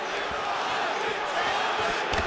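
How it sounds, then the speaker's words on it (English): Arena crowd in the UFC 5 video game roars steadily through a mixed martial arts bout, a dense, continuous cheer filling the background. "The crowd's going crazy because they appreciate high-level mixed martial arts"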